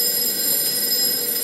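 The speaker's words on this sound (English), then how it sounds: "Answer that phone, please, Miss Thornhill." A steady old-style telephone bell rings continuously, a bright sustained metallic trill held at an even level throughout, with no voices over it.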